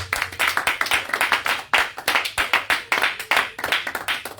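Congregation applauding loudly in a French-speaking church service, a dense run of rhythmic clapping with repeated bursts, close and continuous throughout.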